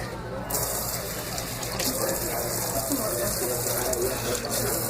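Water runs steadily from a sink tap as a continuous broadband hiss, close and fairly loud throughout, during the finishing of a dental model in a lab, with no talk over it.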